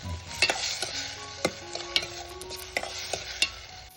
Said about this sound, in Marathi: आता हे परत परतून घेते कांदा टमाटर चांगला सॉफ्ट होईपर्यंत